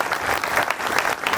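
A community gathering's audience breaks into brisk, dense clapping, close and loud, sustained without pause for the whole short burst.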